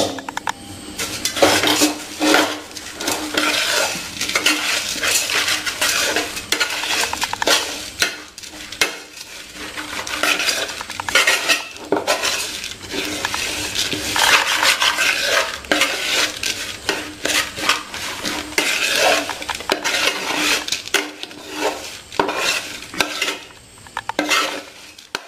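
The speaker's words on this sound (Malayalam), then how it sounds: "ഇനി അവല് ഇതിലേക്ക് ഇട്ട് നമുക്ക് മിക്സ് ചെയ്യാം കേട്ടോ." Flattened rice (aval) tossed and mixed in a pan for a sweet snack, with steady close scraping, stirring and clinking of a utensil against the pan, continuous and fairly loud.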